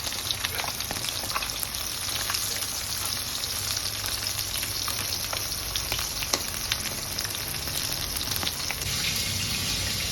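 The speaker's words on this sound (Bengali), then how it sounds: "একদিকটা ভাজা হয়ে গেছে, আর এই দিকটা আমি উল্টে দিচ্ছি এই পাশটা ভাজার জন্য।" Pieces of Chitol fish frying in hot oil for a Bengali-style fish curry give a dense, steady crackling sizzle that stays close and continuous throughout, with no talking.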